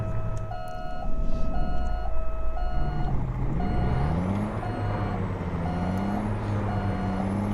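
A truck in American Truck Simulator reverses with a steady, evenly spaced beeping alarm over a loud diesel engine drone that shifts pitch as it moves, with no talk.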